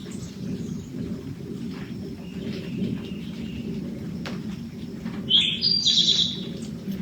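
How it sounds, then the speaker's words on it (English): A bird sings a short, high chirping trill near the end over a low, continuous outdoor rumble of raindrops falling from trees. "Listening to the bird song and the raindrops falling from the trees."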